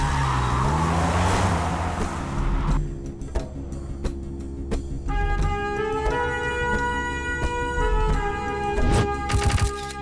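A car engine revs and the car pulls away, with a brief tyre squeal, loud and close at first before the sound shifts into dramatic music; no talk.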